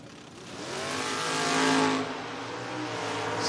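Drag race cars launching and racing down the strip at a Door Wars event, a loud roaring engine surge that swells to a peak and then fades slightly, with no talk.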